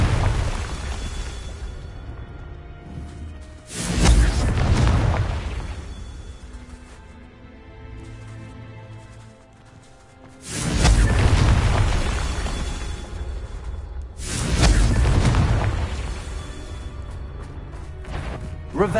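Spell explosions from Confringo casts in Hogwarts Legacy, three heavy booming blasts a few seconds apart, each loud and rumbling before fading into game ambience.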